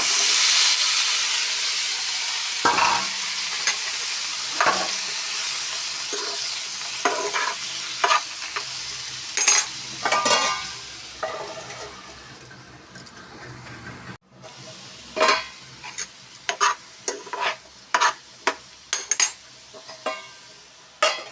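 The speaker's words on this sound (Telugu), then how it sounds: "మనం ఈ కడాయిలోనే ఇప్పుడు దోసకాయ ఫ్రై చేసుకోవాలి." Cucumber pieces frying in a kadai, with a steady hiss of sizzling oil broken by repeated sharp scrapes and clinks of a spatula stirring against the metal pan; there is no talk.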